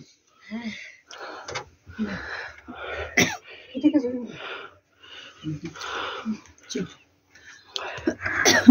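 Coughing outdoors in bitterly cold weather, a sharp cough burst standing out among breathy, whispery voices and sniffs, near and intermittent.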